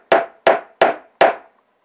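Four evenly spaced hammer taps on a fabric belt ring out close and sharp in a quick row, then silence.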